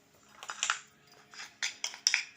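Homemade turmeric henna paste being stirred with coconut oil in a bowl, a few soft scraping and clinking strokes from a spoon, close and quiet, arriving in short irregular bursts.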